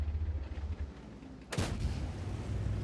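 In the video game World of Tanks, a tank gun fires with a sudden sharp blast and a booming explosion midway through. Quieter game ambience comes before it, and a lingering rumble follows.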